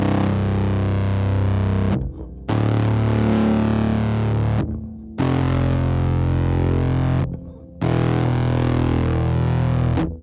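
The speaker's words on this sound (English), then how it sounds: "So the Poly Flat 5 sounds like this on its own." An electric guitar runs through a Poly Flat 5 fuzz pedal on its own, four loud, thick fuzzed phrases each ringing out and cut off by a short silence, with no talking.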